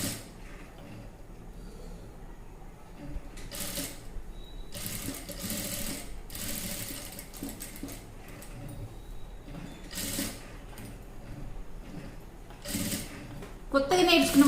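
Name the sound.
sewing machine stitching a blouse neck design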